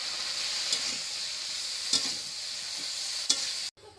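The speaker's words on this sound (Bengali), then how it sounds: "সেই বেগুনগুলো দিয়ে দিচ্ছি তাকে ভালো করে নেড়ে নিচ্ছি" Eggplant sizzles steadily in a hot pan as a spoon scrapes through it in three separate strokes.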